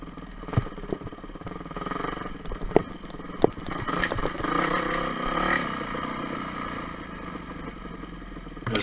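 A dirt bike climbs a steep hill in the woods, its engine working steadily under load with a continuous mid-level drone, punctuated by a few sharp clattering knocks from the chassis and terrain.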